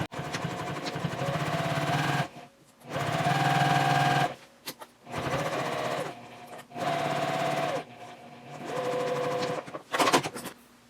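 A sewing machine sews the side seam of a drawstring tote bag at a 3.0 stitch length with a half-inch seam allowance. It runs in five loud, close bursts, each about a second or two long, separated by brief silences.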